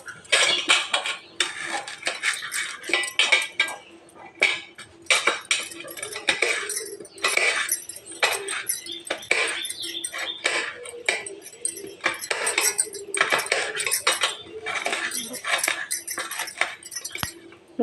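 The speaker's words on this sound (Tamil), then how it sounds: "இப்போ இந்த 4 வெங்காயத்தையும் நல்லா கட் பண்ணி பொடி பொடியாக வச்சுக்கலாம்" Four peeled onions being finely chopped with a knife on a board, heard as rapid, steady, close knocking with clinks of utensils, continuing loud and dense throughout.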